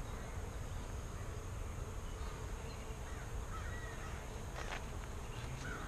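Honeybees buzzing around an open beehive, a dense steady hum of many insects close by that fills the whole stretch, with a few faint higher whines passing through and no one speaking.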